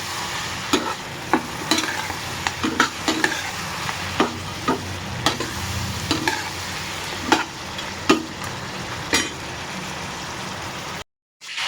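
Chicken being stirred in a frying pan, with a steady sizzle underneath and a series of sharp scrapes and clacks at irregular intervals, close and fairly loud, with no talking.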